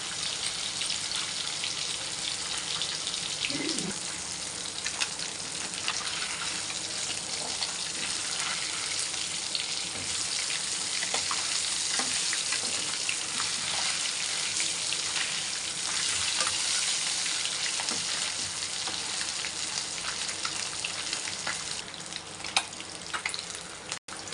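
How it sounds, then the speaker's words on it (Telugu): Fish frying in oil over a low flame, a steady dense sizzle with soft crackles and occasional spatters running continuously, close and fairly loud, with no talking. "సిమ్లో పెట్టుకొని బాగా వేయించుకోండి ఫ్రెండ్స్ ఓకేనా"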